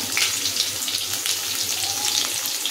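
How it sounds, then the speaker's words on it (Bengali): Papaya and potato pieces fry in a pan with a continuous, fairly loud crackling sizzle, close by and without talk. The hiss is broad and watery and resembles running water. "এখন পেঁপে আর আলুটা একটু ভাজা ভাজা করে নিই।"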